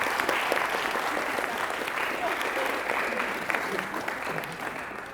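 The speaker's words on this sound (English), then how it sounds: "Please, a round of applause," Wedding guests clap in steady, sustained applause during the toasts, a dense crowd sound that fills the room and slowly tapers toward the end.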